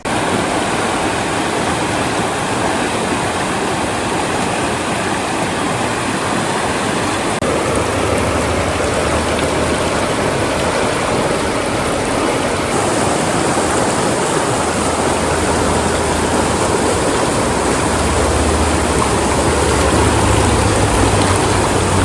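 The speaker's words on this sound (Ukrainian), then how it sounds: "Десь через годинку почався дощик. Він був невеликий, літній, тому ми продовжили просто сидіти біля річки." Light summer rain by a river, a constant broad hiss of falling water and flowing current, loud and steady with no talking.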